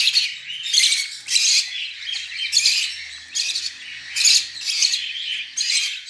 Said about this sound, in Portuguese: Três bebezinhos de periquito.